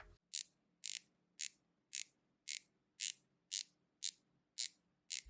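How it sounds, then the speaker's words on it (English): About ten sharp, crisp clicks from a rotating 120-click dive watch bezel at an even pace, loud and close, with quiet gaps between them. "The 120 clicks sound solid and defined, but they're also super loud."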